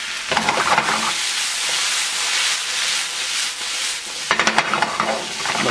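Red pepper sizzles and hisses steadily in a hot pan for a sauce, with bursts of stirring and scraping near the start and again near the end, loud and close with no talk.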